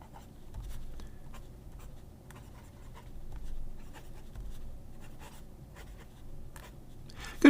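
A Twilight fountain pen writing on paper, close and faint: soft scratchy nib strokes in an irregular rhythm of short ticks and drags over a quiet background, with no talking.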